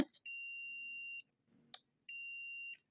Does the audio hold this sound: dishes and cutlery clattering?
no